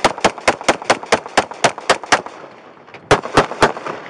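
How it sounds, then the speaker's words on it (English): Police firing handguns at a man holding a toy gun: a rapid volley of about ten loud, sharp gunshots, a brief pause, then three more close shots, with no talk over them. "Shots fired. Shots fired."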